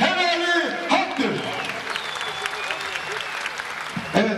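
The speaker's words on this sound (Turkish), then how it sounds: "Şöyle pehlivanlarımıza coşkulu alkış." Enthusiastic crowd applause for oil wrestlers at a final match at the Elmalı Yeşilyayla open-air wrestling ground in Antalya, steady clapping throughout with a commentator's voice talking over it.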